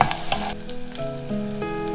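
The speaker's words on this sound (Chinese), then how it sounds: "蒜蓉炒香就把虾米放进来" Minced garlic and dried shrimp fry in oil in a wok, giving a close, steady sizzle beneath tonal background music, with a few stirring clicks.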